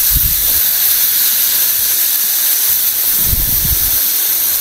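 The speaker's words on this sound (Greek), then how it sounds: "Βγάζει αέριο από το ηφαίστειο εδώ." Gas vents from the Sousaki volcano in Greece with a loud, continuous broadband hiss, steady throughout, with a few low thumps of wind or handling underneath.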